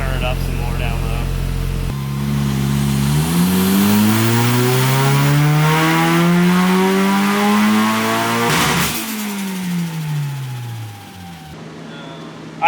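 A Fox Body Mustang engine with boost roars on a dyno, climbing through a long loud wide-open rev before cutting off abruptly and dropping back toward idle, with a voice speaking over it.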